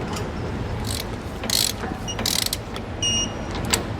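A hand ratchet tightens 3/8 nuts on a U-bolt in short clicking bursts, crisp and close, with a few separate rattling pulls and metallic ticks in between, no talking.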